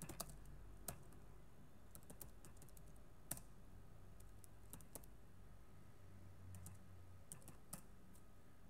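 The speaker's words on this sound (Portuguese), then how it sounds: "vou abrir aqui o terminal do Linux e vou digitar aqui" Sparse, faint keystrokes on a computer keyboard while entering commands in a Linux terminal, scattered individual taps over a low steady background hum, with no talking.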